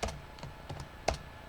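A few quick keystrokes tap out on a computer keyboard while code is entered, about half a dozen close, crisp clicks in an uneven rhythm with quiet gaps between.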